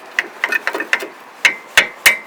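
A hammer gives quick, sharp taps around the bolts of a Range Rover P38 low-range differential. A cluster of light knocks is followed by three louder, evenly spaced strikes, close up and with no talking.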